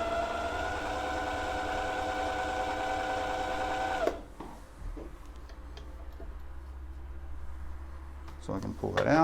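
An old Husqvarna sewing machine runs in a steady, fast mechanical whir for about four seconds, then stops abruptly, leaving quiet handling clicks and faint rustling.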